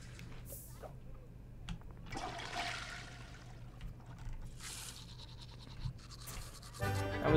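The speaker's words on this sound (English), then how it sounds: "That was some fast teeth brushing." Quick scrubbing strokes of a Sims 4 character brushing their teeth, a soft scratchy brushing texture over a low steady hum, with a faint watery trickle and a short louder burst at the end.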